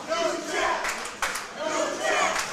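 A live wrestling crowd at an indoor fight-night show cheers and roars continuously, loud and dense throughout, with a brief dip and a sharp burst of noise near the middle before the din swells again.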